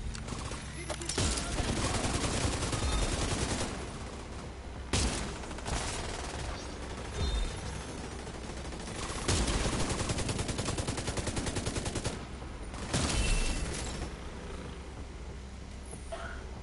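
Sustained gunfire in a video game, volleys of rapid shots and bursts repeating in waves throughout, loud and close, with no talking.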